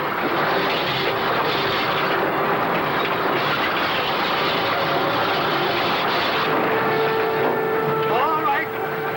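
A moving train in a western television episode rumbles loud and steady throughout, with a sustained hum and a faint whistle-like tone near the end.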